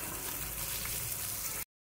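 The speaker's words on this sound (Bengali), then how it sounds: "এবার এর মধ্যে দিয়ে দেবো ওই তেলের মধ্যে তেজপাতা, দিয়ে দেবো পেঁয়াজ কুচি, দেবো সামান্য চিনি। এটা বেশ করে ভাজা ভাজা করবো।" Bay leaf, chopped onion and a pinch of sugar frying in hot oil give a steady, dense sizzle that stays even and close, then cuts off abruptly near the end, with no voices.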